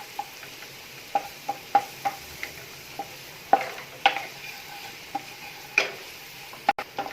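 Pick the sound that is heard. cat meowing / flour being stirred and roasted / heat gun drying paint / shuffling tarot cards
flour being stirred and roasted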